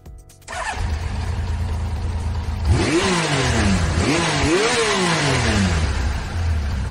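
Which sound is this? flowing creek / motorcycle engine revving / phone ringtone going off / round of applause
motorcycle engine revving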